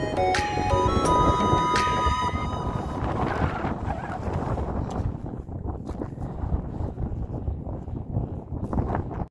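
Strong wind on a snow-covered Himalayan mountain pass in Nepal, a loud continuous roar buffeting the microphone, with a few brief tonal chimes at the start.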